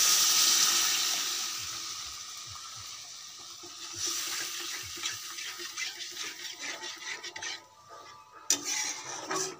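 Water poured into a pan of frying Bengali fish curry (kosha fish), a bright watery splash and sizzle that settles into a steady hiss with light clinks of utensils, no talking.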